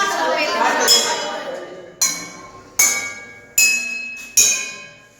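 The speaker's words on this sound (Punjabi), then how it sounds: "ਕਿਹੜੇ ਗਲਾਸ ਦੇ ਵਿੱਚ ਜ਼ਿਆਦਾ ਆਵਾਜ਼ ਆਉਂਦੀ ਹੈ" Water-filled drinking glasses struck one after another in a classroom science activity, giving four or five bright ringing clinks, each sharp onset followed by a slowly fading tone, close and clear after a short stretch of busier sound.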